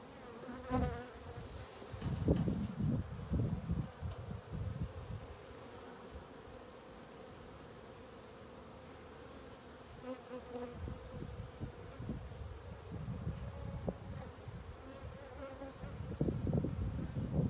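Honeybees swarm and buzz around an open hive during a spring inspection, a steady close drone with louder swells as bees pass near, no voices.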